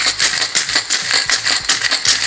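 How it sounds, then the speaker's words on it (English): Ice and sweetened espresso rattle inside a cocktail shaker, shaken hard in a fast, steady rhythm of loud, close clattering, with no talking. "Then I take my cocktail shaker and add ice."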